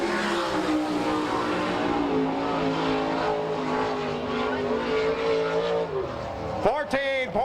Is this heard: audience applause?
no